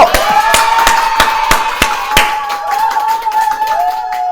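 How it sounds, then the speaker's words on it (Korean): About a dozen sharp, evenly spaced claps at a children's church service ring out over a sustained tone, then stop while the tone keeps going. "다들 박수 한번 주세요."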